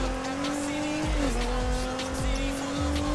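Car driving in the video game Need for Speed Heat, a steady engine drone running throughout with tire squeals and skids around the middle, and a few low thuds beneath.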